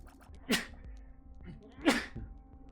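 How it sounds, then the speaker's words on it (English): Two sharp human sneezes about a second and a half apart, close and loud, over a quiet background with faint game audio. "I'm gonna sneeze."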